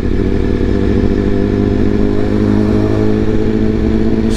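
A BMW S1000RR sport motorcycle's engine drones loudly and steadily while riding, a close, continuous roar with a strong rhythmic pulse and no speech.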